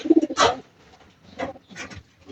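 Pigeons in a loft give several soft throaty coos in short bursts, close and clear against a quiet background, with no talking.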